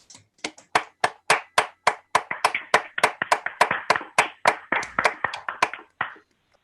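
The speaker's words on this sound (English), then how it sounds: "I hope everyone will just join me now in a moment of well-deserved applause for these outstanding" Applause for award winners at an awards ceremony, heard as a sparse patter of separate hand claps that builds into a few dozen overlapping claps before stopping abruptly, with no talk.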